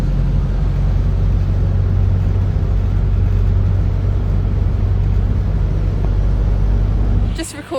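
Bus on a road in Laos rumbling steadily from inside, a loud continuous low engine drone that cuts out abruptly near the end.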